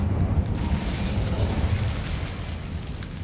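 Incendio fire spell cast in the video game Hogwarts Legacy, a steady roaring, rumbling burst of flame that holds loud and dense for a few seconds with no voice over it.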